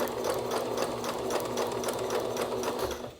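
A sewing machine stitches fabric for a homemade costume, with a steady, rapid mechanical clatter close by that slows and stops at the end.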